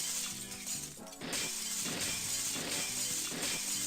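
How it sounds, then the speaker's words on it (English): A pot shatters with a bright glassy crash inside the Ifrit Temple in the video game Eternal Eden, a sharp burst of breaking shards over steady game music, followed by a lingering tinkling tail. "it makes a very nice glass shattering sound effect every time you crack one open"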